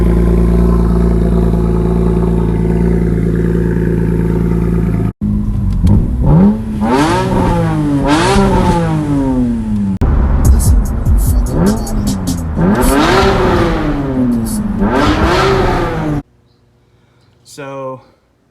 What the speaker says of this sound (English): So a while ago, I ran it no muffler, and it actually sounded pretty good.